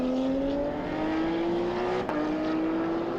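Race cars at the Hungaroring, including Porsche 911 GT3 Cup machines, roar past in a steady engine drone with rising pitch as they accelerate, loud and continuous with a brief sharp transient midway.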